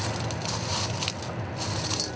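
A gather of hot glass on a pole is pressed into a pile of broken blue glass pieces, giving a steady crackling, crunching rustle throughout.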